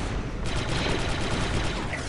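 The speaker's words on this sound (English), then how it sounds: "Oh, I'm shooting my teammates." Sustained fire from a squad firefight in the video game Republic Commando, a loud, continuous wash of rapid shots with no pauses, heard alone without talk.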